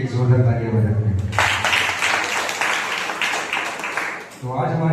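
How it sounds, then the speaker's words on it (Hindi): A congregation at a Sunday church service breaks into loud, dense applause that lasts about three seconds, between stretches of someone speaking before and after. "आइए हम यीशु मसीह के लिए एक जोरदार तालियां बजाते हैं।"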